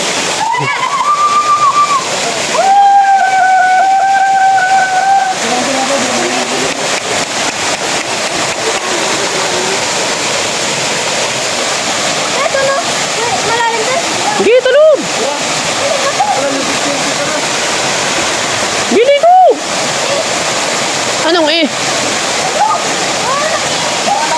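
A loud, steady roar of a waterfall crashes nonstop, with people talking and calling out over the rushing water.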